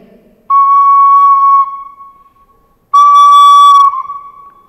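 A recorder note played with a mistake: two sustained clear, loud tones, the second ending with a drop in pitch and fading weaker instead of rising at its close.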